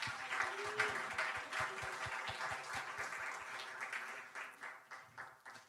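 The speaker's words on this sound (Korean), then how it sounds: "우리 박수로 축복하겠습니다." Applause from a church youth worship congregation, a steady patter of many hands at moderate loudness, thinning toward the end, with a low rhythmic thumping underneath.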